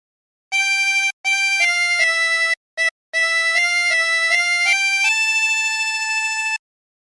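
On a 24-hole tremolo harmonica, the Squid Game theme plays as a melody of clean, reedy sustained notes with brief breaths between phrases, ending on a long held note. It sounds close and solo, with no voices.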